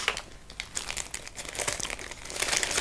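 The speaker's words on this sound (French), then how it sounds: "Et quand on déballe la notice" A paper leaflet from a medicine package crinkles and crackles as it is unfolded, close and fairly soft, in a few uneven bursts with no speech.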